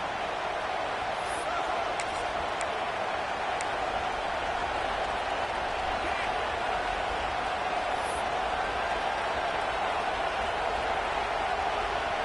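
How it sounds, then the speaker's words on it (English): Steady stadium crowd roar in a Madden football video game, a dense continuous wash of many voices held at an even level as a Georgia team lines up for a field goal. "This crowd trying to do its part to get inside the kicker's head."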